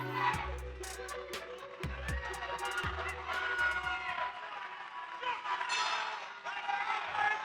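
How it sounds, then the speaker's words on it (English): Crowd cheering at a live fight event, moderately distant shouts and whoops that rise and fall under continuous commentary. "Crowd showing their appreciation."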